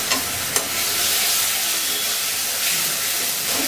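Spice paste of tomato, chilli, cumin and coriander sizzles loudly in a pan as a little water is added for a raw papaya and dal vegetarian dish, with two sharp bursts early, then a steady hiss.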